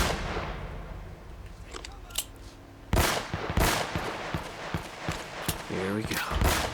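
Rapid gunfire in the video game Uncharted: Drake's Fortune, a loud burst of repeated shots following a quieter stretch, with talk mixed in near the end.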